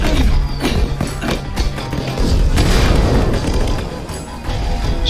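Fireworks go off in the video game Minecraft Story Mode, a rapid run of booms and crackling bangs layered over busy game noise, with loud thuds packed closely together.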